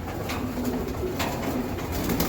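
Racing pigeons from a club loft give soft, low repeated coos close by, with a steady hum of background noise and no talking.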